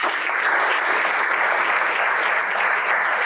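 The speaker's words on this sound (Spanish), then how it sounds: "Solicito un fuerte aplauso para el ingeniero Fernando Valderas López" A conference audience gives a strong round of applause for an engineer being introduced, steady dense clapping at an even level throughout the short stretch.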